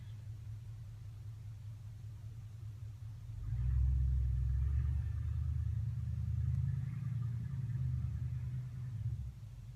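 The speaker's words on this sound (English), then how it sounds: "that was a big old beefy gas engine" A deep, heavy gasoline (not diesel) engine rumble swells as a big vehicle drives past, lingering for several seconds before easing off.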